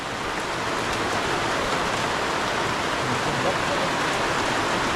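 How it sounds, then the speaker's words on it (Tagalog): Heavy rain pours steadily on a roof or surface during a storm, a dense continuous hiss that stays loud and even throughout with no pauses. "Nabot ako ng malakas ulan."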